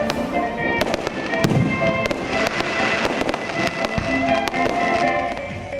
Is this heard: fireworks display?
yes